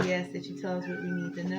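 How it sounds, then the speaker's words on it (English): A cat meows insistently while a person keeps talking steadily over it, the calls rising and falling beneath the voice. "I'm sorry, y'all, that's the cat."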